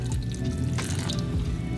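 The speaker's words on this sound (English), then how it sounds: "add a little bit of the pasta water." Pasta water pours into a pan of grated tomato and miso-butter sauce with a steady, close splashing trickle and a few small drips, no voices over it.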